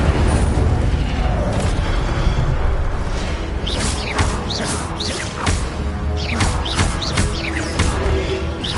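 Fire spell effects in Hogwarts Legacy combat: loud, dense bursts of whooshing flame and crashing impacts that run continuously, with layered booms and game effects filling the whole stretch.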